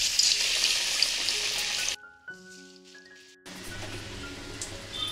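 Horsegram sprout cutlet coated in maida and vermicelli frying in hot oil: loud continuous sizzling that cuts out abruptly for about a second and a half, then resumes more quietly, with no talking.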